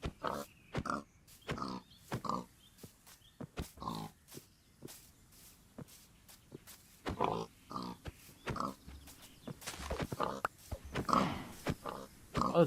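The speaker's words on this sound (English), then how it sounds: "Why is that pig so pink?" Pig grunts and oinks from the video game Minecraft, a run of short repeated snorts in irregular bursts, fairly close, with a player's voice talking over parts of it.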